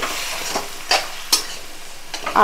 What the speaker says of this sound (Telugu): చికెన్ ముక్కల్ని వేసేసి కాసేపు సిమ్లో పెట్టి